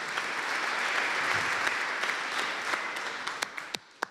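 Applause from a conference audience after a talk on an efficient state and the crypto industry, a dense steady clapping that thins out toward the end into a few separate loud claps.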